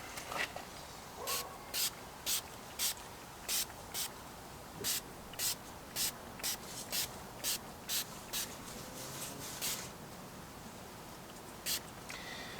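Anti-fog product is rubbed across a Jeep surface with a microfiber cloth in a steady run of about fifteen brisk, evenly spaced swipes, each a short close hiss of fabric, over a quiet background.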